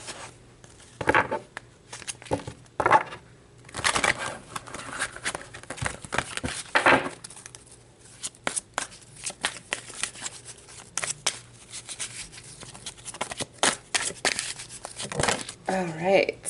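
Tarot cards shuffled by hand in soft, uneven riffling bursts, close and fairly quiet, with a person talking intermittently over them.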